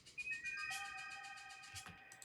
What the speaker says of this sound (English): we have arps that play